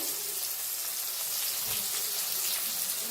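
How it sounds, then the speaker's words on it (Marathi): Cumin seeds, chopped onion and crushed garlic fry in a pan, giving a steady, close, bright sizzling hiss throughout without a break. "आणि छान दोन्ही भाजून घेऊया"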